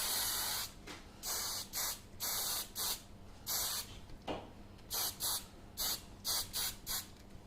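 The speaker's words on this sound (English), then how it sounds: "So then we're just going to spray this." A spray can is sprayed onto sugarcraft sunflowers in short, repeated hissing bursts, some brief and some longer, close by and fairly quiet in an otherwise still room.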